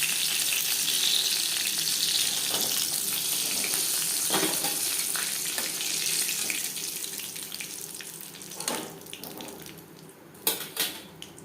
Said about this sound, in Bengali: প্রথমে আছে পপকর্ন ভাজা হয়ে গেছে একটা পাত্রে উঠিয়ে নেবো